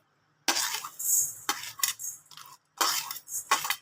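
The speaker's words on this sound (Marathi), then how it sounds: "आता हे आपल्याला अगोदर धने छान भाजून घ्यायचे आहेत" Coriander seeds dry roasting in a pan for dabeli masala are stirred and scraped with a spoon, four close bursts of gritty rattling and scraping separated by short pauses, with no talking.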